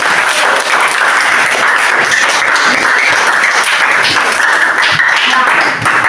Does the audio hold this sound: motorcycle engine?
no